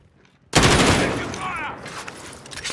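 Loud, sustained burst of gunfire in a Call of Duty: Modern Warfare multiplayer match, erupting abruptly after a quiet moment and rattling on continuously, with a voice speaking faintly underneath.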